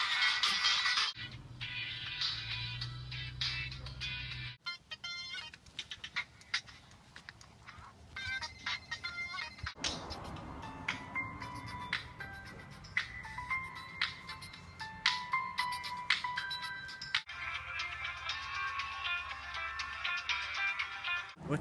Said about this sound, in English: You can jam out to a variety of new tunes on the Samsung flip phone.